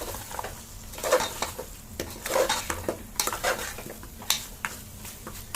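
Marinated mutton bones are stirred in a pan with tomato, ginger and garlic, a spoon scraping and clinking in soft irregular strokes over a faint sizzle.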